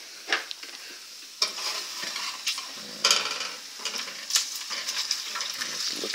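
Bacon frying in a pan, a close crackling sizzle punctuated by repeated clatters of a utensil stirring and scraping against the pan, with no speech.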